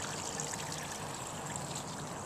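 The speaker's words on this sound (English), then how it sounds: "There's a little brook dribbling down, Tranquility Brook." A small outdoor brook trickles and dribbles steadily at a constant level, its broadband water wash running unbroken with no voices.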